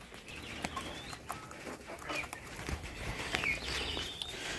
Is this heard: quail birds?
yes